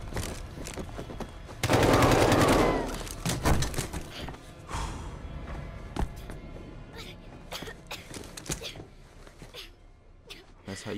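AK rifle fire in the video game Call of Duty: Modern Warfare, a loud dense burst of automatic shots followed by scattered single shots and thuds, with someone talking over the game sound.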